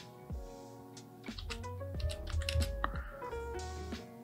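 Quick clicks from a computer keyboard come in an irregular burst of keystrokes, close and fairly quiet, with no talking.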